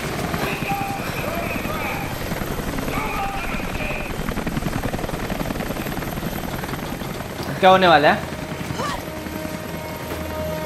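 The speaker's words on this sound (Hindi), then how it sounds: "पूरी पूरी हेलीकॉप्टर पड़ गई पीछे।" Helicopter chasing two characters in the video game Rise of the Tomb Raider, a steady rotor drone running under game music and a brief louder burst, while someone talks over it.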